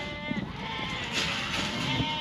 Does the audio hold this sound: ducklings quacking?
no